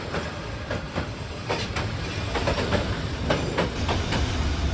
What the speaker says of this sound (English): the 3-meter wide express train to Saigon passes several times a day